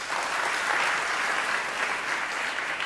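A large audience at a religious discourse bursts into steady, sustained applause, dense clapping filling the space evenly from start to finish with no break and no voices on top.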